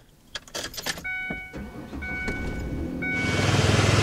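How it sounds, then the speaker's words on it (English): A car engine cranks and catches, then settles into a steady idle close by, after a few clicks and clunks. "Now we just need to go start the car"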